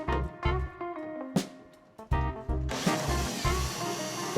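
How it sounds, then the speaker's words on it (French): A power drill with a drill bit bores into a plastic rain barrel in a garden, several short loud whirring bursts with pauses between, ending in a sustained grinding run. "On perce le tonneau jusqu'à atteindre la pierre, juste pour marquer le trou de forage."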